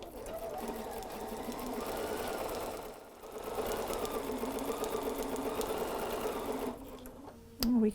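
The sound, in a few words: sewing machine stitching fabric seam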